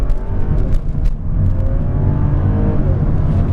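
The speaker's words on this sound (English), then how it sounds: "So we're gonna do a nice little launch here when the light turns green." A 2012 Audi A6 Premium sedan with all-wheel drive and an 8-speed automatic launches hard from a green light, its engine roaring loudly and steadily from inside the cabin as it accelerates.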